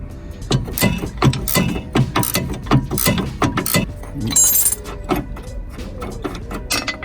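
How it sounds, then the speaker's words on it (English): Spanner working a stabiliser link bolt under a Vauxhall Meriva, with quick metallic ratcheting clicks and clanks up close, a brief hiss midway, and people talking around the work. "If you hold with the spanner there"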